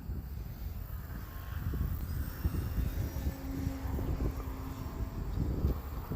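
RC model airplane engine whining through a tight loop, a thin droning tone that rises and falls over steady wind rumble, distant and continuous.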